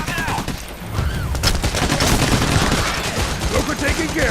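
Loud, dense gunfire from several weapons fills a Payday The Heist shootout, with rapid bursts overlapping continuously at close range.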